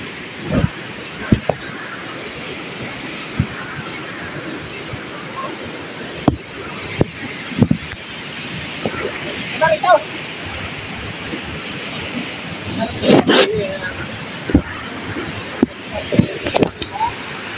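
A powerful waterfall current at Baga Falls after a flash flood roars as a steady, broad rush of water, with occasional knocks and handling noises and brief voices over it.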